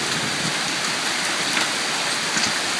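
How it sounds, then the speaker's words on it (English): Hail falling in a storm in Mamaroneck, New York, heard as a dense, continuous hiss of countless small impacts, loud and even throughout with no talking. "I think yeah, it's still hailing."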